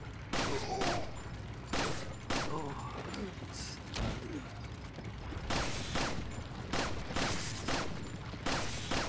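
Bursts of gunfire hit an enemy in the video game Resident Evil 4, sharp repeated shots spaced a second or so apart, some in quick pairs, over low game ambience with brief mechanical clicks between.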